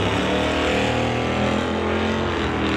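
A Camaro drag racing down the strip at a Friday test-and-tune event, its engine a loud, continuous roar at full throttle that holds steady the whole time.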